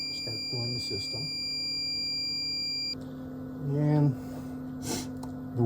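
A Brown's gas machine, model T6633, sounds its low water alarm as a steady high buzzing tone for about three seconds, with someone talking under and after it.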